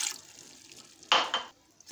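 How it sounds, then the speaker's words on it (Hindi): Water poured into a pan of chicken drumsticks while cooking, a short splashing pour over soft sizzling, fairly close, followed by a brief second splash and quiet. "साथ ही आप इसमें 1 कप पानी ऐड कर लें।"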